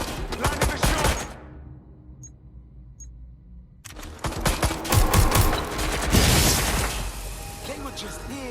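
Rapid gunfire bursts in the video game Watch Dogs Legion, loud crackling volleys that cut out into near silence for a couple of seconds with two faint clicks, then resume even denser and heavier.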